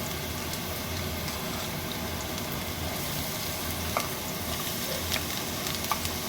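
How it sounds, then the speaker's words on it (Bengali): Chopped garlic sizzles in hot oil over a low flame, a steady even crackle with a few small stirring clicks near the end and no talking. "তেলটা গরম হয়ে গিয়েছে, আমি এবার এর মধ্যে দিয়ে দেব 2 চা চামচ রসুন কুচি"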